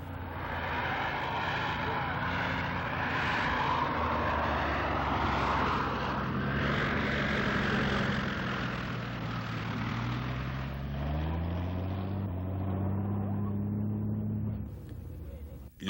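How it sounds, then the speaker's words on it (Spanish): A mission propeller airplane drones steadily close by, its engine pitch slowly shifting as it passes, with a voice speaking in Spanish under the noise. "Los aviones de las misiones empezaron a llegar con frecuencia"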